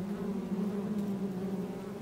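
Wild honey bees in Australia hum in a steady, close buzz, a dense drone from several insects holding an even pitch without pause, with no voices.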